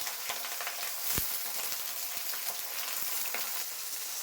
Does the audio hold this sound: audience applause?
no